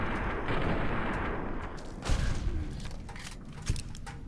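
Pistol shots at a Yao Guai in Fallout New Vegas, Honest Hearts: a few sharp gunshot bangs, one hard hit near the middle and another later, over a dense rumbling game background.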